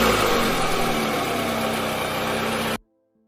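Car engine running steadily as a car drives off, a continuous mid-pitched hum and rumble that holds for a few seconds and then cuts off abruptly to silence.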